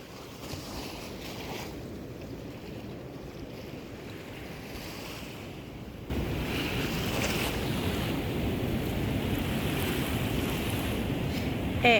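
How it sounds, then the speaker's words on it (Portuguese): Sea waves roll onto Muro Alto beach at Porto de Galinhas, a steady wash of surf mixed with wind rumble on the microphone that grows slightly louder halfway through. "Eu vou deixar vocês agora com um pouquinho do barulho do mar"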